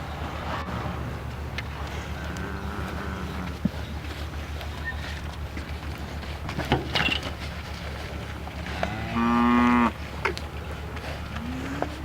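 Dairy cattle in a barn pen moo several times over a steady background hum, with a clear, close low moo near the end and fainter calls earlier; no one speaks.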